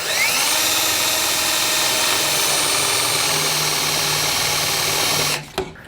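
A power drill bores through the frame of a 2007 Jeep Wrangler with a loud, sustained high whine that holds steady for about five seconds, then stops abruptly with a short clatter.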